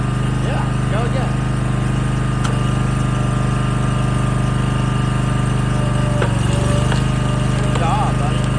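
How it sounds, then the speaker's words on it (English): A firewood splitter runs steadily on red oak with a constant loud engine drone and low hum throughout, with brief knocks and creaks of wood as logs split, and voices talking over the machine. "Hand in the firewood splitter."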